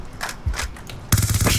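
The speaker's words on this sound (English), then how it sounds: "Someone shooting at me!" Rapid bursts of enemy gunfire in a multiplayer shooter game, sharp cracking shots in short clusters, then a louder, sustained automatic volley near the end, with no speech over them.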